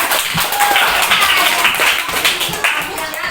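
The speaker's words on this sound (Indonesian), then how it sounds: "Sekarang tepuk tangan buat teman." Students in a classroom clap for a classmate, a lively burst of many hands clapping close by with some uneven, tapping rhythms, mixed with faint voices.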